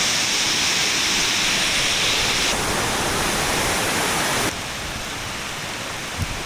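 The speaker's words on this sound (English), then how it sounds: "Look at that waterfall." A waterfall heard as a steady, even wash of rushing water, loud and close at first and then dropping in level partway through before continuing at a softer, constant roar.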